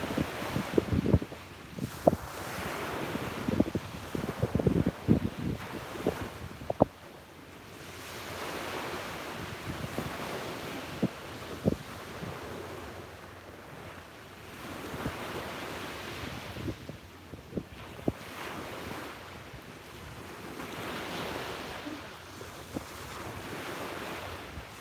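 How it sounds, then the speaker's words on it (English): Ocean waves wash onto a beach at sunrise in a long soft swell, with gusts of wind buffeting the microphone and faint surf surging and fading at a distance. "Let's soak in the colors of the scenery and the sound of the waves"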